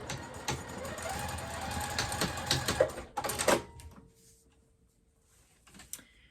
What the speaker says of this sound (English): flip it over and we'll sew down the other side.